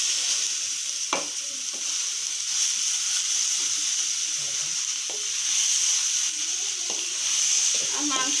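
Beef and onion sizzle steadily in a hot pan, a continuous bright frying hiss with occasional stirring scrapes and clinks throughout.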